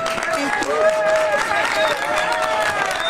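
Crowd at a sanctuary city rally in San Francisco, clapping and cheering blended with raised voices and shouts throughout, a busy, dense outdoor gathering sound.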